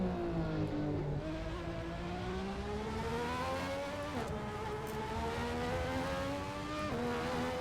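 A race car engine revs continuously at high pitch, its tone climbing steadily and dropping abruptly at each gear shift, several upshifts in a row, loud and close with no talking.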